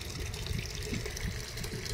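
Water pours into a washing machine as it fills for a wash, a close, steady gurgling flow with small splashes and bubbling throughout.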